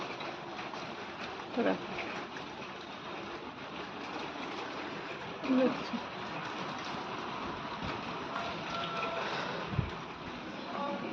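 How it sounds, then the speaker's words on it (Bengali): Heavy rain falls steadily outside a home in Kolkata, a dense, continuous hiss that stays even throughout, with a few brief knocks and bumps close by. "আরও জোরে বৃষ্টি পড়ছে"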